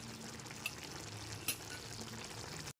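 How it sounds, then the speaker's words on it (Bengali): Garam masala is stirred into a raw banana kofta curry in a pot, a soft steady sizzle and bubbling with a couple of faint spoon scrapes, close and quiet. "গরম মশলা গুঁড়োটা দিয়ে খুব ভালো করে মিশিয়ে নিয়ে"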